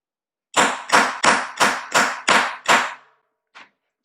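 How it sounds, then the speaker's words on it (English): Seven sharp, evenly spaced hammer blows strike a metal stamp into a jewelry blank, each ringing briefly and loud up close, followed after a pause by one faint light tap. "hold on to our piece and then use the hammer again"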